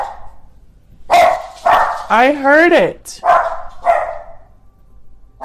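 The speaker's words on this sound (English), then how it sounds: "My dogs, the doorbell rang, so of course they have to tell the whole neighborhood." Dogs barking at home after the doorbell rang, a few loud close barks and a drawn-out whining yelp in quick succession, with a woman's brief speech between them.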